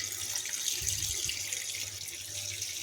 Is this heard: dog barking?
no